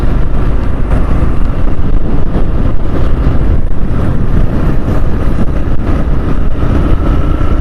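Motorcycle ride with a GoPro through city streets past a stadium, a steady loud engine drone and rushing wind buffeting close to the microphone the whole way through.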